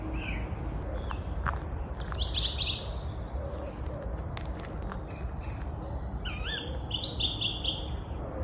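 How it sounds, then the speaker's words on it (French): Several birds chirp and sing outdoors in quick, overlapping trills and tweets over a steady low background hum. "Écoutez le chant des oiseaux"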